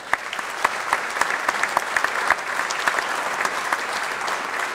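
A packed room at a small business recognition awards ceremony breaks into loud, steady applause, many hands clapping in a continuous close wash with a few sharper claps standing out.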